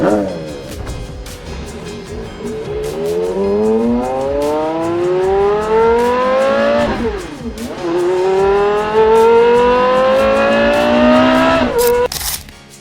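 A Porsche Carrera GT engine revs hard through rising gears, pitch climbing, dropping at a shift, then climbing again, loud and close.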